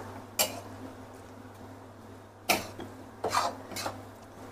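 Carrot halwa being stirred in a pan, with a few sharp spoon scrapes and clinks against the metal spaced out over a quiet, low-humming background.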